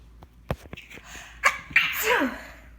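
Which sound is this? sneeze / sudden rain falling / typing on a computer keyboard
sneeze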